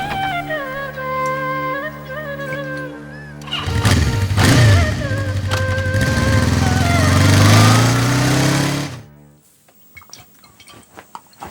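A tractor engine starts up and runs loud and close for about five seconds, its pitch climbing as it revs, then cuts off abruptly; tonal music plays before it and continues faintly afterwards.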